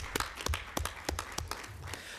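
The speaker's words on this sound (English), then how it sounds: "may we have a round of applause for all the interventions made here." A conference audience at a high-level parliamentary meeting on HIV/AIDS gives faint, scattered applause, with irregular claps across the whole stretch and no talk over them.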